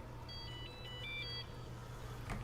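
A phone rings in the Warframe video game, a faint electronic ringtone of short chirping tones repeating over about a second against a low steady background hum.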